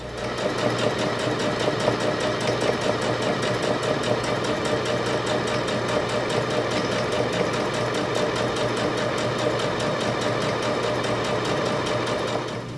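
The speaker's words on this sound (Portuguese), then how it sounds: "Vou com você lá na minha máquina e costuro todas essas marcações com o ponto contínuo." Sewing machine running a continuous straight stitch along chalk-marked lines on a fabric reading pillow, a steady fast mechanical chatter heard close and alone for the whole stretch.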